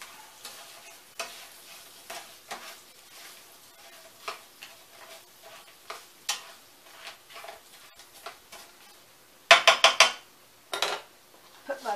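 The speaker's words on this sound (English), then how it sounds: "Just going to stir that around a little bit" Rehydrated potatoes are stirred around in a pan, giving a run of soft scraping strokes with quiet crackling between them and a burst of louder clattering scrapes near the end, close and with no talking.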